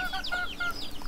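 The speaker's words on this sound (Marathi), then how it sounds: "इथं कोंबड्या" Hens cluck continuously at a farmyard under hot sun, with short repeated calls overlapping near and fairly loud, layered over steady background noise.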